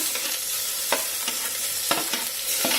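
Chopped tomatoes stirred into browned onions frying in a pan for khichdi, a bright steady sizzle with periodic spatula scrapes and light clatter, close and without speech.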